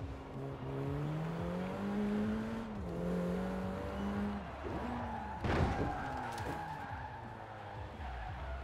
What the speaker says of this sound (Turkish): İlk kazamızı yaptık.